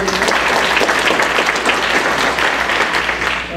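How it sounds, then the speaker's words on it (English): A roomful of Rotary Club members applauds loudly and continuously at a club meeting, thick overlapping clapping that stays strong before easing slightly at the end. "Let's give him a round of applause"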